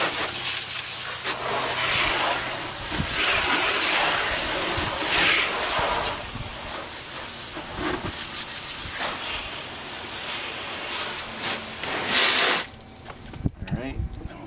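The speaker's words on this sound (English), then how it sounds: "And then I'm rinsing out the strut and also the brakes." A water hose sprays hard onto a car's strut and brakes during a hand wash, a loud continuous rushing hiss that shifts as the stream moves, then cuts off near the end with some handling noise.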